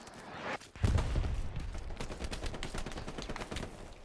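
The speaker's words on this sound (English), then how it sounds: "the machine gunner got me" Machine gun fire in a squad-based war video game on the Hill 400 map starts with a sudden heavy burst and keeps going as rapid rattling shots over a low rumble for several seconds, near and loud, with no voices.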